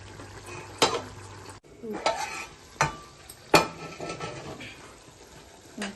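Palm-fruit pulp curry cooking down in hot oil after its water has boiled away, with scraping spoon strokes against the pot and bursts of sizzling, close and fairly quiet.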